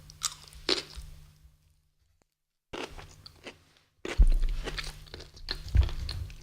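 A gherkin is crunched and chewed along with terrine, giving loud, close crunches in bursts around a silent pause, with a low hum running beneath.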